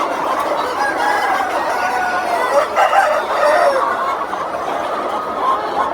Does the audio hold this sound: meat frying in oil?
no